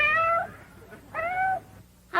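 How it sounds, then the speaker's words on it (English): A cat meows three times in a classic TV sitcom scene, clear drawn-out meows close up with short pauses between, the last cut off abruptly. "How come you brought along the pussycat?"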